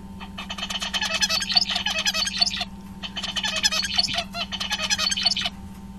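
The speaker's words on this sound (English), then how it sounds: "as the zebra finch sings their typical routine of introductory notes A, B, C, D, E, F, G, which are in that fixed order" Zebra finch song, repeated bouts of rapid buzzy, harmonic-rich notes in a fixed sequence, three motifs separated by short pauses over a constant low electrical hum, close and clear without talk.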